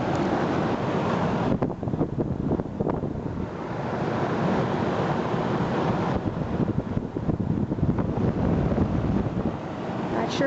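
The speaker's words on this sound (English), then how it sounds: "All I hear is a fan from back here." A Trane XB10 central air conditioner, an outdoor unit installed in 2004 and never cleaned, with a Climatuff reciprocating compressor, runs steadily. A broad, constant fan whoosh holds throughout at even loudness, close to the microphone.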